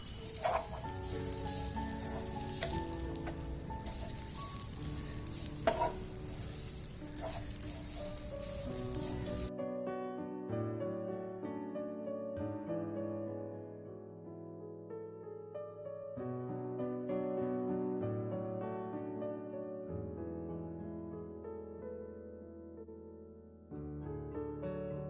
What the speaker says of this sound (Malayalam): ഇനി ഞാനൊരു പാൻ വെച്ച് ഒന്ന് ചൂടാവുമ്പോൾ അതിലേക്ക് 2 കപ്പ് തേങ്ങ ചുരണ്ടിയത് ഇട്ട് നല്ലതുപോലെ ഒന്ന് ചൂടാക്കി